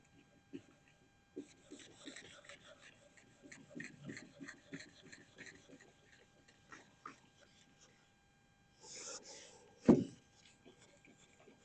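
Sandpaper rubs over paint on a Peugeot 403 car body, a faint, uneven series of rasping strokes with a short louder scrape and a knock near the end.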